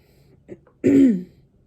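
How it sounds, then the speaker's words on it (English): A single close, guttural throat clearing, preceded by a couple of faint small throat noises, in an otherwise quiet room. "I apologize for clearing my throat so much and coughing."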